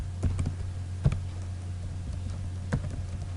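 Light tapping on a computer keyboard as a caption is typed, a few soft irregular key clicks over a steady low hum, close and fairly quiet.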